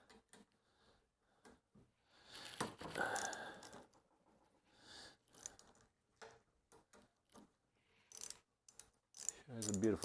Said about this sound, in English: So we'll use a 10 millimeter socket. Let's take this one off.